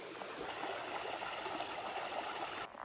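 A mountain stream runs along a hiking trail, a steady close rush of flowing water with constant splashing texture that stays even throughout.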